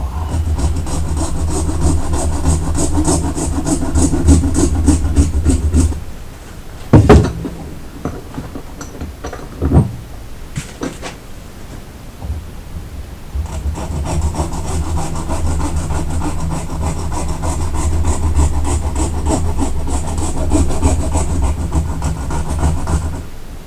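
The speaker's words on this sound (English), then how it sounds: "So I'll just finish her off on here with the hacksaw." Hacksaw cutting through wires, a steady back-and-forth rasping of close strokes that pauses for a few seconds with a couple of clanks, then resumes.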